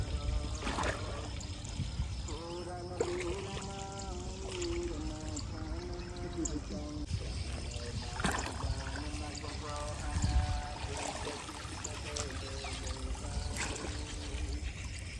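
Water poured steadily onto garden plants during morning farm chores, a continuous splashing wash running beneath a voice talking throughout.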